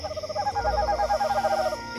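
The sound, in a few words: owl hooting at night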